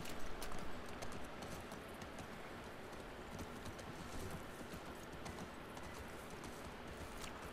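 Horse hooves clip-clop steadily in The Last of Us Part 2, a continuous rhythmic trot over a dense, noisy game soundscape with no talking.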